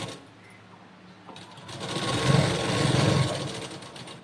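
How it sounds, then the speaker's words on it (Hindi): A sewing machine runs continuously, stitching cord into fabric piping, a steady close whirring hum that swells louder after the first second and a half. "यहाँ से बिल्कुल इस तरह सिलाई चलाना है"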